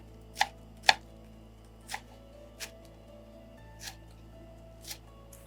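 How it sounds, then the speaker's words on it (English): A knife chops spring onions on a board in about seven separate sharp taps spaced unevenly, the first two loudest and the rest fainter, with a low steady hum underneath. "I will go ahead and cut also some spring onions"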